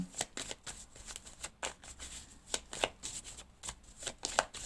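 Oracle cards are shuffled and drawn in a quick series of crisp, papery riffles and flicks, close and fairly quiet, with no voices.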